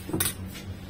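A utensil clinks briefly against a bowl while ingredients are mixed with sesame oil for Chinese cabbage rolls, a quick close metallic scrape and knock followed by a fainter second touch.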